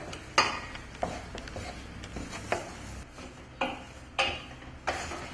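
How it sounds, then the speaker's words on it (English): Choux pastry dough being stirred in a pot on low heat on a stove element, giving a series of separate scraping knocks of spoon against pot, roughly one each second, close and fairly quiet. "while it's on the element, you need to stir it the whole time"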